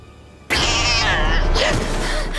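A cat meows loudly and close by, one drawn-out cry followed by a shorter rising call, breaking in suddenly after near silence.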